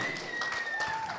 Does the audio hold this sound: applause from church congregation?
yes